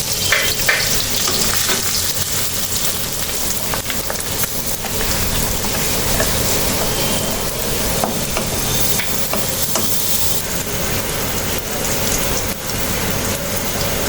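Loud, steady sizzling of chopped garlic, onion and green chili frying in hot oil in a pan, continuous and close with faint stirring throughout.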